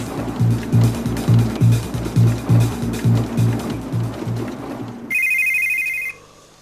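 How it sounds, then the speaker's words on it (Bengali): A phone ringtone bursts out loud and tonal for about a second at the end, after a stretch of rhythmic vehicle rumble and road noise with no talk. "আবার ফোন।"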